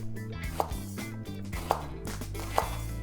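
A knife chops a small shallot on a cutting board in a home kitchen, with three sharp, evenly spaced taps over a steady low hum, close and clear, and no talking.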